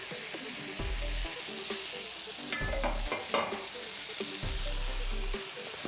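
Giant gyozas steam-fry in a lidded pan, a constant hissing sizzle with low rumbling bursts and a brief crackling swell midway, with no voices.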